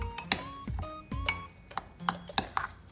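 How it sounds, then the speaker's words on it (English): A spoon stirs soy sauce and Worcestershire sauce together in a bowl, giving a quick series of light, ringing clinks and taps against the bowl, close and clear, with no talk. "Lightly mix together with a spoon."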